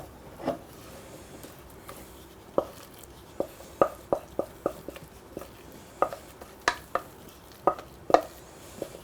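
A spatula scrapes thick fruit cake batter from a bowl into a baking tin, giving a string of sharp, irregular scrapes and knocks at close range.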